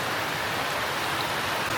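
Steady rain pours down, probably drumming onto a small shed and its water tank, a dense, even hiss that carries on without a break and with no voices over it.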